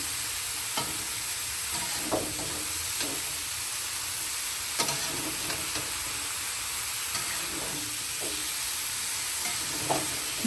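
Aloo gobhi, potatoes and cauliflower, sizzling in oil in a pan while being stirred, a steady frying hiss with scattered scraping clicks of the spoon against the pan, close and moderately loud.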